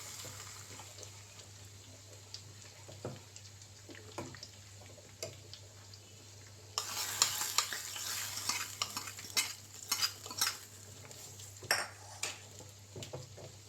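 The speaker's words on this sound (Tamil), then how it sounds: "தாளிப்பு போட்டுடலாம். தாளிப்பு ஊற்றிடலாம்." Mustard seed tempering hisses and sizzles as it is poured into a simmering chicken bone curry, a sudden loud burst of frying followed by stirring with metal utensils clinking against the pot.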